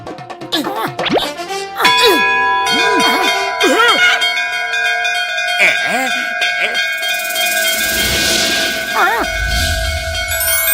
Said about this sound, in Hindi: चलो दोनों एक साथ मिलके इस घंटी को बजाते हैं।